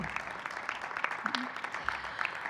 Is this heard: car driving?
no